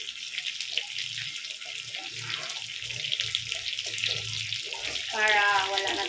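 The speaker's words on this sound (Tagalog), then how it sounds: "ay naguhugas ako guys" Dishes and plates being washed by hand under a running kitchen tap, with steady water splashing and clinking, while a voice speaks faintly in the background.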